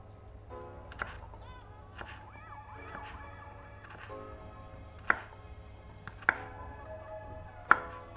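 A knife chops food on a cutting board in regular sharp knocks about once a second, close and clear over quiet background, with some tonal squeaks between strokes.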